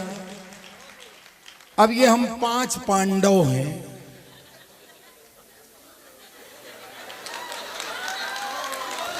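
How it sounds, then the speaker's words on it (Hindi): A crowd at a Hindi comic poetry gathering breaks into applause that builds slowly into a broad, distant clatter of clapping, after a man's loud, lively speech and some audience murmuring. "एक बार इनके सम्मान में भी जोरदार ताली बजाएं।"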